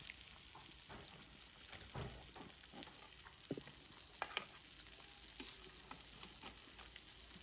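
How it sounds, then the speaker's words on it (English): A seafood boil pot with sausages sizzles steadily while a utensil stirs it, scraping and clinking now and then against a constant quiet frying hiss, with no talking. "So I'm going to stir."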